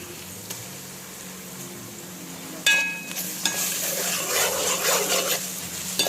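Ginger-garlic paste is stirred into goat head meat frying with browned onions. A low background hiss jumps into a louder, crackling sizzle partway through, then continues steadily with stirring scrapes.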